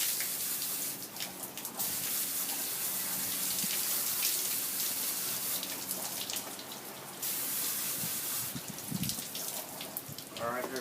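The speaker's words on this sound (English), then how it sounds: "we'll spray this out real quick" Water sprays in steady hissing gushes that stop and start a few times, splashing onto canister filter sponges, with a brief voice in the background.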